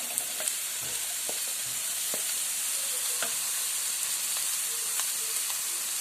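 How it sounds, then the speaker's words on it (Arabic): Batbout frying in a pan with onions and vegetables, a steady, even sizzle with faint crackles and occasional small pops, close by and with no talk over it. "غادي نحمر في الخبوط اللي عندي، غادي نديرو بالخضار"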